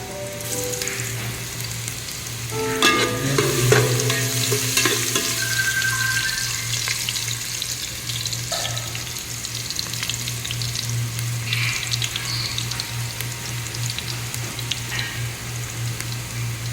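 Garlic and ginger frying in oil as the base for chicken wing sinigang, a steady close sizzle with a few stirring clatters and a low background hum, no talking.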